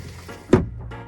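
A storage compartment on a sailboat opens with a single sharp wooden clunk, close and brief amid a quiet cabin.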